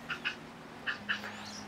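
Four short nasal quacks from a duck come in two quick pairs, faint and somewhat distant over a low background hum, with a few soft bird-like chirps near the end.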